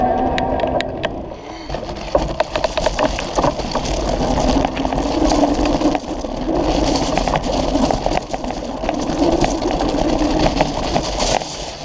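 The motor of an Easy Motion EVO Snow 29-inch electric bike runs under continuous whirring drive noise, with irregular rattles and clicks from riding over rough ground and no voices.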